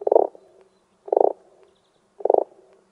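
Three evenly spaced, raspy croaks of a frog imitation made with audio plugins, each a short rattling burst about a second apart, close and clear with nothing else around.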